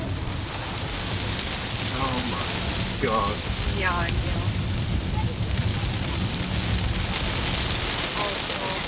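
Heavy rain drums steadily on a car roof and windows as a large Kia EV9 sits parked, a dense continuous wash throughout, with people talking briefly over it.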